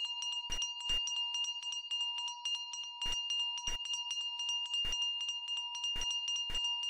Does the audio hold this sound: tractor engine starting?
no